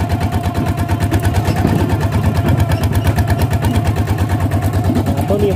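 A vehicle engine pulls steadily in second gear over rough ground, its loud, close throbbing running continuously with a rapid, even pulse and no pauses.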